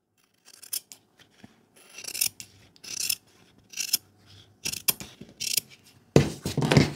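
Scissors cutting fabric for a Flower necessaire, heard as a series of crisp, close snipping and rasping strokes in irregular bursts with short pauses between them, ending in a louder, longer cut, with no talking.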